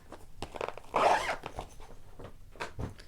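A zipper on a zippered storage bag is pulled open in a quick rasping stroke, followed by softer rustling and a couple of shorter zip sounds nearby.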